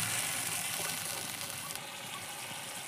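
Ground ginger, tomato and green chili paste added to hot oil with fried onion, hissing in a steady, bright sizzle that eases slightly toward the end, close and alone without talk.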